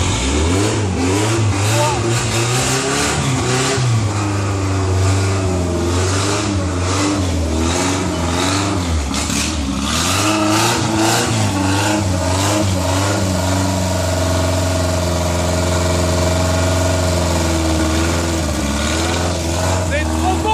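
A 1973 Alpine 1300 engine cranks, catches and revs hard, its mid-pitched roar rising and falling continuously and loudly, with voices talking over it.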